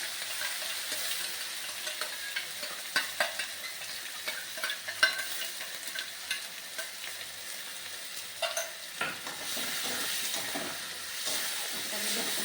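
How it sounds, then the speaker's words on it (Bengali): Onion, garlic and chilli paste sizzles steadily with a soft hiss in a pan while a utensil stirs and scrapes now and then, close and continuous. "ভাজা ভাজা করে নিই"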